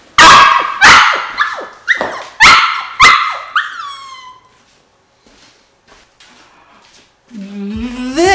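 A dog indoors gives a run of about six loud, close barks in quick succession, then falls quiet apart from faint whimpers before a short whining yip at the end.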